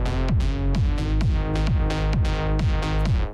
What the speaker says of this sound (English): It's the techno kick that I was looking for.